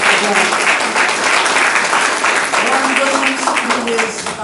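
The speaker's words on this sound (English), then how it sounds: "give him a round of applause" Audience applause for pianist Warren Williams at a women's association 50th anniversary event, a loud, dense, sustained clapping from a large crowd with some voices mixed in.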